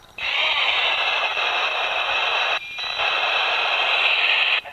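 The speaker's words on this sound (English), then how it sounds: "sounds like somebody else is on the channel there, just come blasting through" A CB radio transmission out on the moors hisses through as a steady band of static, with a brief dropout midway before the signal resumes and cuts off.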